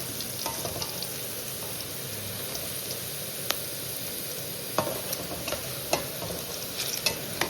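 Onions frying in a tempering, giving a steady soft sizzle with scattered sharp pops and the scrape of stirring, fairly quiet and close.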